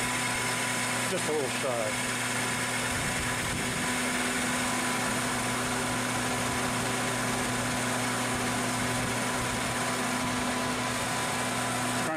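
A lathe turns 7075 aluminum on a first pass at a 0.100-inch depth of cut, giving a steady mechanical hum with tonal whine throughout while a person talks over it.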